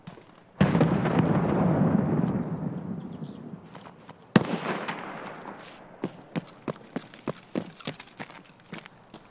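Gunfire in Escape from Tarkov on the Customs map: two heavy shots with long rolling echoes, then a run of sharper, fainter cracks spaced irregularly, no talk over it.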